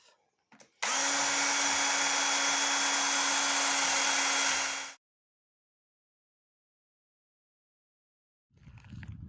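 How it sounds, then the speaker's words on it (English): A power drill boring into wood during office DIY: a steady, loud, high whirring run of about four seconds that stops abruptly, followed by silence. "And when you're going to drill, don't drill on top of the table."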